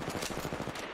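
An R99 submachine gun fires in a video game, one loud, rapid automatic burst of closely spaced shots lasting under a second.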